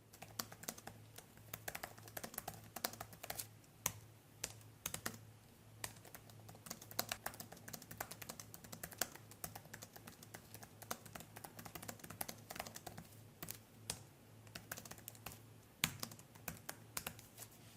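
Quiet, steady typing on the thin, low-profile reMarkable Paper Pro Type Folio keyboard, soft rapid key taps with a few louder clicks, close by and continuous.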